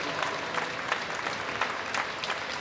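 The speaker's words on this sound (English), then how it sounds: "The German crowd getting behind Maximilian Dornbach" A German crowd at a track cycling event in Munich applauds and cheers for rider Maximilian Dornbach, a dense, continuous wash of clapping and crowd noise with scattered louder bursts.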